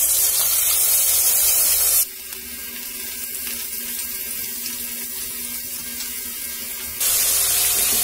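Prawns coated in salt and turmeric frying in oil in a wok over a low gas flame. The sound is a loud, steady hiss of spattering oil, damped for a stretch in the middle and then bright and full again.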